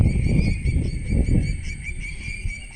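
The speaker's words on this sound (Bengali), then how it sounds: "এই দেখুন জঙ্গলে একটা পাখি আওয়াজ করছে" A bird calls in a forest beside a river, with a few repeated honking, goose-like cries at a steady rhythm, close and fairly loud over a low rumbling background.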